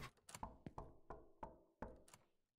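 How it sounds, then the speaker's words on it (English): Six sharp knocks on a door in the video game Mask of The Convenience Store, loose and uneven in rhythm, close and fairly loud, each ringing out briefly. "Knock, knock."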